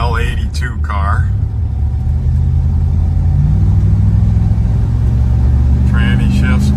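A 1979 Chevrolet Corvette with the L82 V8 drives along with a steady low engine rumble inside the cabin, and someone talks over it at the start and end.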